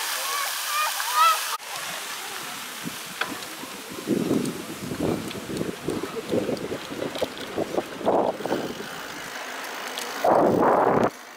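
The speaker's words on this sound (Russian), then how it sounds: "фонтан просто шикарный" A water fountain splashes outdoors with rushing, wind-buffeted noise. Someone speaks in bursts over it, and strong microphone rumble comes at the start and the end.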